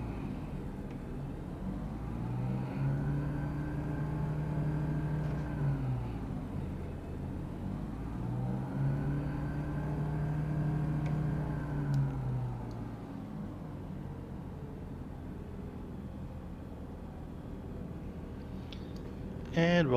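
Propeller engine of a DA-22 aircraft in Microsoft Flight Simulator runs up to top RPM, a steady droning hum that swells and eases in two long cycles before settling into a flat, quieter drone.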